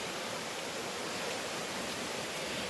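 A clear forest stream on the Agasthyarkoodam trek in Tamil Nadu, a steady broadband wash of flowing water, close and continuous, faint in level with no voices.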